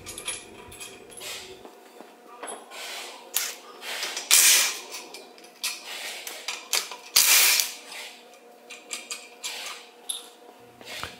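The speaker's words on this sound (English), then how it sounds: "Remove the four 19 millimeter bearing cap bolts." Four 19 mm bearing cap bolts are loosened with a ratchet on a Mahindra Roxor rear axle, giving irregular metallic clicks, clanks and a couple of sharp bangs, close and alone.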